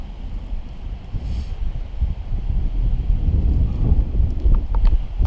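Gusty wind buffets the microphone on a snowy, high-elevation winter hike through mossy woodland toward Charlies Bunion, a steady low roar that swells louder toward the end, with no one talking.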